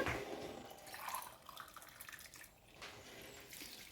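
Water splashes and pours unevenly into a pan of rava being cooked for upma, a faint, broken trickling with soft surges and no voices.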